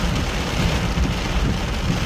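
Heavy rain pouring during a night flood in Steinbach, Manitoba, a loud, dense, continuous hiss and roar with low rumbling underneath, no talking.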